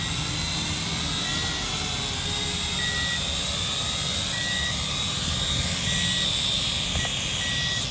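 A small drone flying and coming in to land, a continuous near, loud high-pitched propeller whine with faint intermittent electronic beeps, no talk heard.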